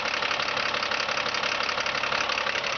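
A GMC Top Kick C7500 4x4 bucket truck's diesel engine idles steadily, a loud, even mechanical churn with a fine knocking rhythm and no voices.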